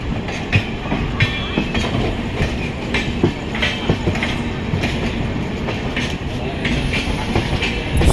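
A passenger train runs at speed on the Visakhapatnam to Vizianagaram stretch toward Raipur, a loud continuous rumble with rhythmic clickety-clack of wheels over rail joints heard from inside the coach.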